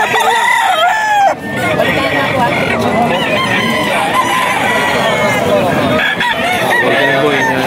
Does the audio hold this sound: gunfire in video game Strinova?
no